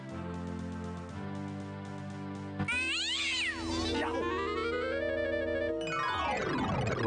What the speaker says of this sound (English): Possibly an ancient Mesopotamian cat guard.